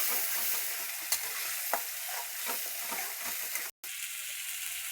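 Masala sizzles in hot oil while a spoon stirs it, a soft continuous frying hiss with occasional scrapes, cut by a brief moment of silence near the end.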